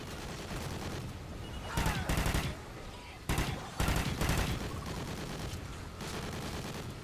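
Bursts of automatic gunfire in Call of Duty: Ghosts Extinction, several loud rapid volleys separated by short pauses over a continuous game soundscape.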